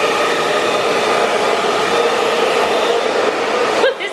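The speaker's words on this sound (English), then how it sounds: "I found an old hairdryer, and we're gonna try and melt off the glue" An old hair dryer blowing continuously to melt off glue, with a loud, steady whooshing whine, close up, cutting off abruptly near the end.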